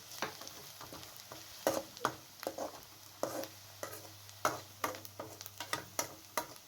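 Onions with cumin softening in a pan for an egg maghaz-style masala, a steady low sizzle broken by repeated scraping stirs at a fairly even pace, close and moderately quiet, no voices.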